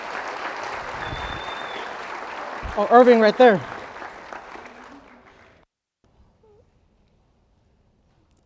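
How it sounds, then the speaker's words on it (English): An audience claps loudly at a Legends FC soccer senior night for the class of 2023. A voice speaks briefly over the clapping midway, and the applause then fades out into near silence. "If we could give them a loud round of applause as well."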